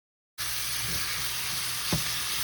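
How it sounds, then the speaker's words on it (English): Ground beef for an old-fashioned beef and potato skillet browns in a pan with a sudden loud, continuous sizzle after a brief silence, and a single sharp utensil knock partway through as the meat is broken up. "go ahead and add in your ground beef."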